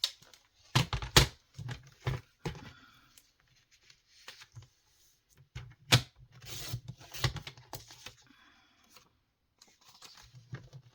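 Craft paper for a belly band is cut and trimmed by hand, heard close and quiet as scattered scraping and rustling strokes with short pauses between them.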